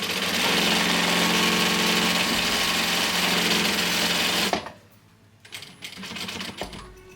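A workroom sewing machine stitches fabric for an embroidered headboard, humming loud and steady for about four and a half seconds before stopping abruptly. Faint handling clatter follows.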